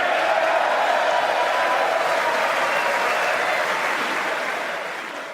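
Loud, sustained applause from a large audience greets a line in a political speech, a dense wash of clapping that holds steady and then begins to fade toward the end.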